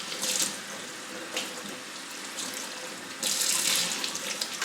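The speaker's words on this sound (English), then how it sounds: "I drained the water out of the saucer" Water drains and pours out of a Dendrobium nobile orchid pot saucer, a steady trickling splash with louder bursts at the start and again in the last second and a half.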